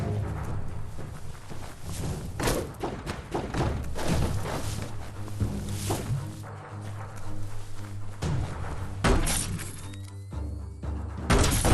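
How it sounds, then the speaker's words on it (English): Loud booming blasts and shattering crashes from an explosion in the video game Biomutant, with several heavy thuds spread across the stretch over a dense, busy game soundscape. "Shoot it and watch it blow."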